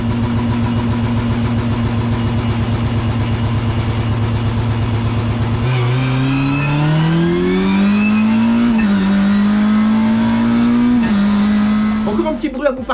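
A Mitjet race car drives flat out on the Barcelona circuit, its engine a loud, steady high-revving drone heard from inside the cockpit, with the pitch climbing and wavering through gear changes.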